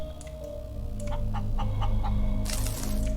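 A chicken clucks in several quick, close pecking bursts over a steady low mechanical hum in the space survival game Breathedge, ending in a brighter hiss.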